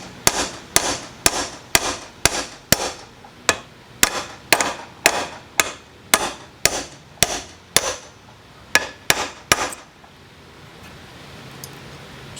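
Sharp, evenly spaced hammer blows drive a U-joint out of a Jeep TJ axle, about twenty loud metallic strikes in a steady rhythm close to the microphone, then stopping with quiet after.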